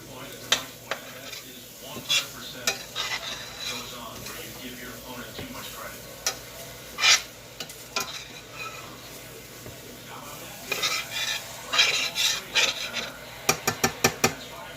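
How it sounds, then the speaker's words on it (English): Butter melts and sizzles in a frying pan before okra goes in, a soft crackling bed broken by frequent spatula scrapes and taps, some bursts clustering toward the end, heard up close. "I am going to let that butter finish melting"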